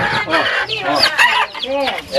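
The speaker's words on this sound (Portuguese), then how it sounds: "olha os pintinhos, a galinha com os pintinhos" A hen clucks beside her chicks in a vegetable garden in Bom Jesus do Galho, Minas Gerais: close, loud, rapid clucks in short bursts, with children's voices nearby.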